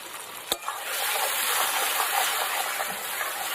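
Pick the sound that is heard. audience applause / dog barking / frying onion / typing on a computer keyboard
frying onion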